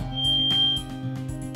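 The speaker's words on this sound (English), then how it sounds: "Hey, the smoke alarms work." A shrill smoke alarm tone sounds over a low steady hum, with repeated rhythmic pulses, fairly loud and close, in a kitchen after a pot boiled over.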